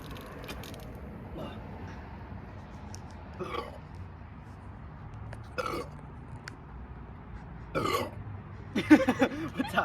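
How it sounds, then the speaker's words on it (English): Burps after drinking Sprite: several separate throaty belches spaced a couple of seconds apart, close and fairly loud, with the last ones coming in a rougher cluster. "like I feel like I'm actually gonna burp."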